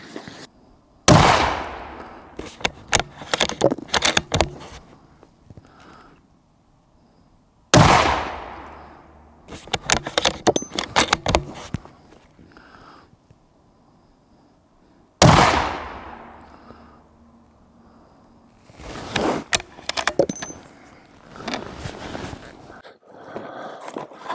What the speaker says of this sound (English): So this ammo isn't the greatest, and I might not be the most accurate shooting either.